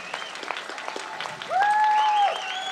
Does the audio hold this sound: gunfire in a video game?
no